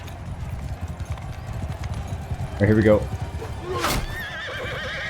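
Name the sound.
horses galloping and neighing in Bannerlord War Sails video game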